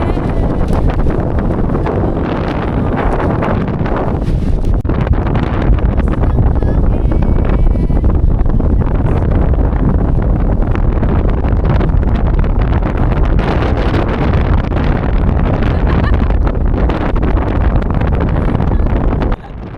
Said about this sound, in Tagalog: Sobrang lakas pa rin ng hangin